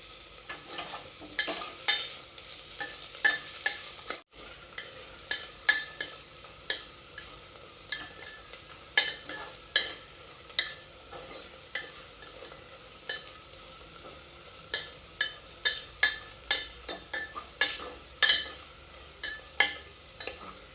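Food fries in a pan with a steady sizzle while a utensil stirs it in quick, repeated scraping strokes, close and clear, with no talking, during preparation of a festive Akshaya Tritiya dish before rice is added.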